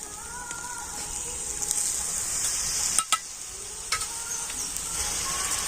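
Yogurt and gram flour masala sizzles in a pan as it is stirred and cooked down, a soft continuous crackle broken by a few sharp scraping clicks of the spoon.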